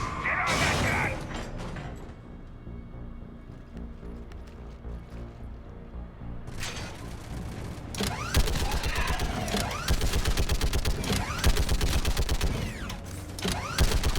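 Mounted gun firing at hostiles in Mass Effect 3, rapid mechanical bursts and clattering shots that grow dense and loud after a quieter stretch, mixed with game sounds.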